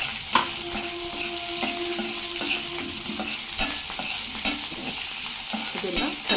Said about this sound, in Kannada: ಈಗ ಈರುಳ್ಳಿ ಸ್ವಲ್ಪ ಫ್ರೈ ಆಗಿದೆ.